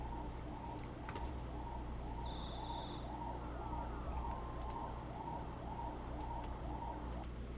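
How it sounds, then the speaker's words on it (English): Quiet siren sound effects play during video game credits, a soft wailing tone repeating in a regular cycle over a low steady hum, with a few faint clicks and no speech. "I'll turn off the sirens."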